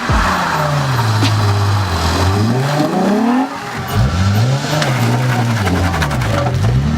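Nissan 350Z revving hard as it attempts a burnout, engine pitch rising and falling in repeated surges with a brief dip midway, loud and close with some tire scrape.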